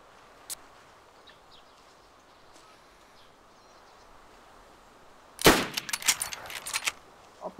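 A burst of several sharp gunshots in DayZ at an airfield, a quick cluster after near silence, fairly loud and close with a faint earlier crack.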